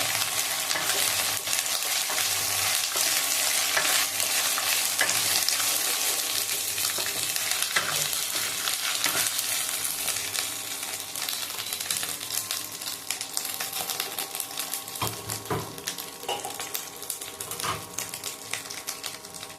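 Egg chilli frying in a pan over a high flame, a dense, crackling sizzle that runs without pause, with occasional scraping bursts as it is stirred.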